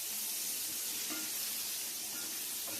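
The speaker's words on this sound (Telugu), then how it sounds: "ఫ్రై చేస్తున్నానండి, మీరు కావాలంటే దీన్ని బటర్ ఆర్ ఘీలో కూడా ఫ్రై చేసుకోవచ్చు" Paneer cubes fry gently on slow heat in a pan, giving a faint, steady sizzle with soft crackles and no talking.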